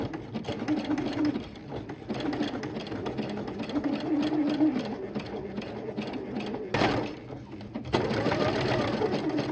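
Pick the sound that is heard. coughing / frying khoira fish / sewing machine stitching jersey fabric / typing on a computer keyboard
sewing machine stitching jersey fabric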